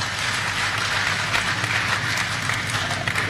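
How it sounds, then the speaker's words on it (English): Audience applause for conference panelists, steady dense clapping from a crowd filling the room, loud and sustained throughout with no pause. "give a round of applause to our panelists."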